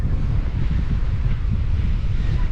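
Strong, steady wind buffeting the microphone at a kite-surfing beach on Providenciales, Turks and Caicos, a constant low roar with possible surf underneath, no voices.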